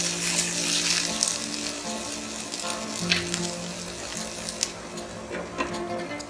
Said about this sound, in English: I've added a bit of salt to these vegetables and we'll let this cook close until they are half done.